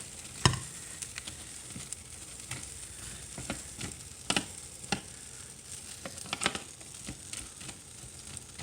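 Alfredo sauce being stirred over vegetables in a toaster oven dish, with scattered soft scrapes and taps alongside a faint sizzle, close but quiet.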